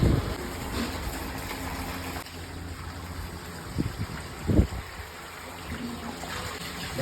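A water pump machine runs with water gushing and flowing steadily during a snake rescue at a broken-open wall, a low continuous hum under the rush of water with a few louder splashes.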